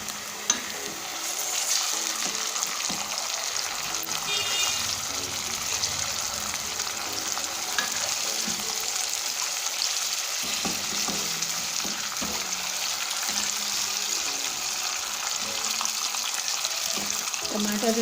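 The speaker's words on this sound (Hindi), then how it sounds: "के बाद हम टमाटर डालेंगे, फ्रीज के टमाटर हैं" Thawed frozen, peeled tomatoes frying in a pan, giving a steady loud sizzle that runs the whole time with occasional stirring scrapes, close up and constant.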